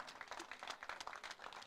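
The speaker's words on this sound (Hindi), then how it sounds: "उनके लिए स्वागत में लगातार अपनी तालियां बजाते रहेंगे।" Audience clapping steadily in welcome of guests at a Namami Gange event in Rishikesh, a dense continuous patter of many hands at moderate volume with no voices over it.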